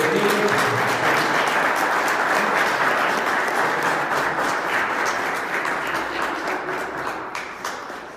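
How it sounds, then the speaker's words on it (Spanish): Sustained applause from a church congregation honoring parents at a baptism service, loud and steady, slowly fading toward the end with no talk. "Un aplauso para los padres"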